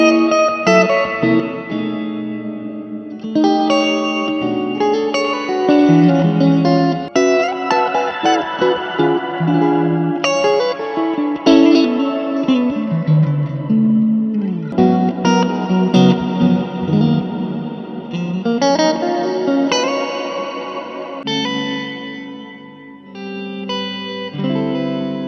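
Electric guitar played through a serial effects pedalboard, ringing chords and melodic lines colored by chorus, distortion, reverb and echo, loud and continuous with no talking.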